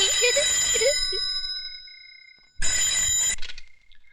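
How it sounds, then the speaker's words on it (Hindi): An old-style telephone bell rings loud and close in two bursts, a long ring fading out then a second sharp ring after a pause, alone with no talk. "लो भैया, बज गई आपकी घंटी।"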